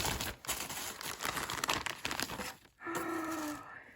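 Close, crisp crinkling of a plastic bag in irregular bursts of rustling, pausing briefly before a last handled rustle.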